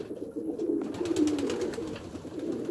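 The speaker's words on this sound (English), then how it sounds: "Another gorgeous pigeon." Racing homer pigeons coo softly in a loft, a low repeated throaty burbling that runs steadily through the whole moment, close by and fairly quiet, with no talking.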